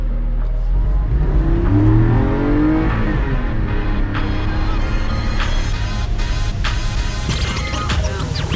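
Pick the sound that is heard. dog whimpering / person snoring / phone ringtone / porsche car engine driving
porsche car engine driving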